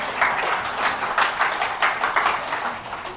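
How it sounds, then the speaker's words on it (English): Audience applause at a health technology talk, a continuous patter of many hands clapping at moderate loudness with small surges, no speech over it. "If you really want to clap, don't be like a little bit on and off lah."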